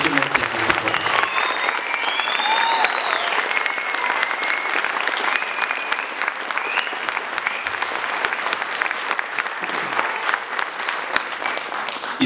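Sustained, loud applause from a crowd at a Bulgarian school end-of-year ceremony for the children, dense and steady throughout with faint voices mixed in.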